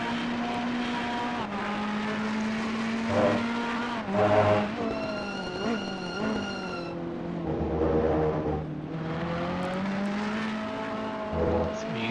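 Race car engine in a racing video game at Misano, revving and shifting through gears with tonal whine, then a long sliding drift with steady engine drone, close and loud throughout.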